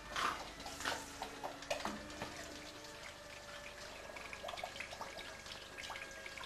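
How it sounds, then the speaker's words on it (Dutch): Tap water flows through a cooling coil during home beer brewing in a small flat, a soft running trickle with irregular drips and splashes, close but fairly quiet. "kan het koelwater door de spiraal stromen"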